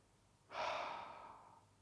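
A single slow, airy exhale during a calm relaxation exercise drifts out close and soft, swelling quickly and then fading gradually over about a second with no talking.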